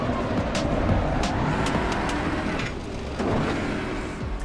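A superpowered GT race car engine roars in a racing video game: a continuous, fairly loud drone with brief rising bursts.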